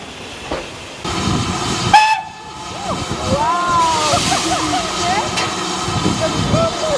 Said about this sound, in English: The locomotive will now depart for Medstead and Four Marks and then Ropley.